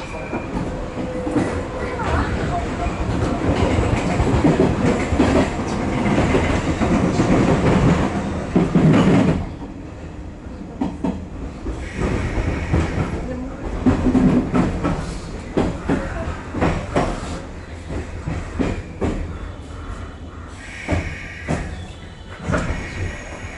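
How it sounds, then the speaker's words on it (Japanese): A JR Osaka Loop Line train rumbles and clatters into Nishikujo station, loud at first then easing as it slows, with faint background noise and brief murmurs. "本日前を走ります列車遅れておりましたため、3分ほど遅れて到着いたします。"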